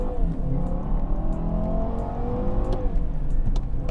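A Mini Clubman JCW GP's engine roars close and loud, a steady throaty drone with slight rises in pitch as it pulls, running continuously throughout.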